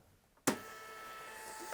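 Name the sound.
Zebra thermal label printer printing a label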